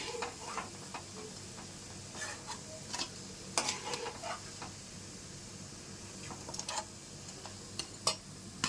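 Amaranth leaves (thotakura) frying in a pan, a steady soft sizzle with scattered clicks and light stirring scrapes, fairly quiet and close, with no voices.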